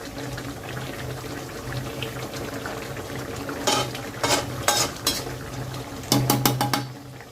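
Chopped coriander is stirred into a thick gourd kofta curry gravy, with soft wet stirring and bubbling, then a few sharp spoon-on-pot clinks near the end, close and alone.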